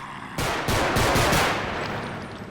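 Rapid automatic gunfire from a realistic first-person zombie shooter game, loud, dense bursts starting abruptly and sustained with a booming low end, no voices.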